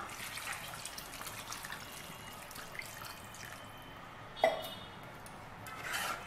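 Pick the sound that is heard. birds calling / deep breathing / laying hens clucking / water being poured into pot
water being poured into pot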